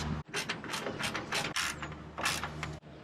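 Fasteners on a carbon fibre car bumper are tightened with a ratchet, giving a close series of rapid clicking bursts separated by brief pauses.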